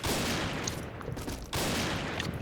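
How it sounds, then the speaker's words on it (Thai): Rapid bursts of gunfire from a shooter video game, dense and loud with two quick volleys close together. "เฮ้ยกูยิงไม่โดนน้องโอ้"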